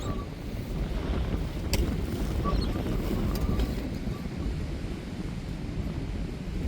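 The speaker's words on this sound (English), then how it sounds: "It's just frosty, ice cold wind and nothing else." Steady, frosty, ice-cold wind at a winter lake buffets the microphone with a constant low roar. It stays fairly loud and unbroken, and a few faint high clicks sit underneath.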